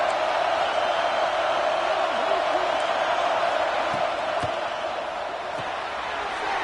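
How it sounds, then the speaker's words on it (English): A football stadium crowd roars in a steady, dense wash of cheering from a distance, with occasional whoops standing out above it. "This crowd ready to make its presence known."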